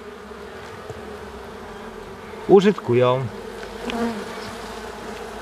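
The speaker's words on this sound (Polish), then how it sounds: "widać, że pszczoły się biorą za robotę" Honey bees buzz close by in a steady hum, with a few louder passes, while a voice speaks briefly over them.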